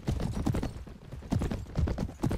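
Horse hooves clip-clopping in a steady galloping rhythm while riding in Mount & Blade Warband, close and continuous with repeated hoof strikes throughout.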